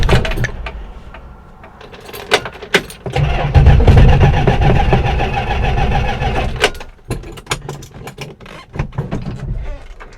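A $9,000 car's engine sputtering and dying at the roadside on a highway, a loud rough rumble that swells, falters and cuts out amid scattered clunks and rattles, with no talk over it.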